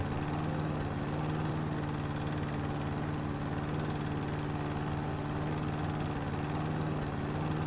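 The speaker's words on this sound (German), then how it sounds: "Also Rasenmäher raus." A lawn mower from the video game House Flipper drones steadily and loudly with an even engine hum and no pauses, and no one talks over it.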